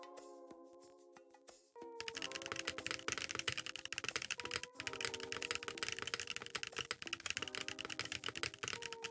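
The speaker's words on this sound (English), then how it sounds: "Here, let's do a quick typing test on it." Typing on a KBD8x MKII mechanical keyboard fitted with Boba U4T tactile switches: a dense, fast, steady clatter of keystrokes up close, following a brief opening stretch of soft musical tones.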